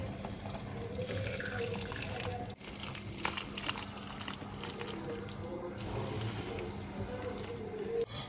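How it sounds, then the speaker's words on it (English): Thickened sobolo hibiscus drink is strained, giving a steady, faint, continuous liquid pouring and trickling with light clinks against a container. "Let's go ahead and strain it."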